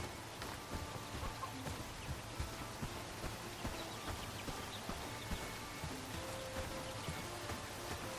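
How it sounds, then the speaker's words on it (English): Rain patters steadily in the video game Bellwright, a dense continuous hiss of drops with small regular tapping accents throughout. "We got rain."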